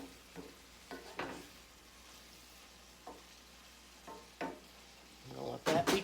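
Kielbasa caramelizing in a skillet gives a quiet, continuous sizzle, with scattered scrapes and stirring knocks from a utensil that grow busier and louder toward the end.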